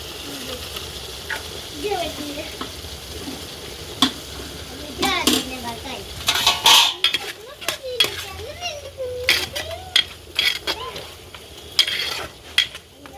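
A spoon stirs mutton biryani rice and tomato curry in a metal cooking pot over a sizzling flame. Irregular scraping and clinking sounds close by over a soft frying hiss, with voices speaking at times.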